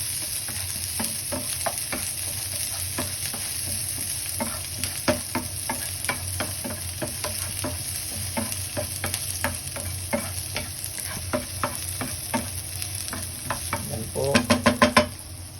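Garlic and onion sizzle steadily in hot oil in a pan, with frequent stirring clicks and scrapes throughout and a brief burst of louder spatter near the end; a voice speaks softly now and then.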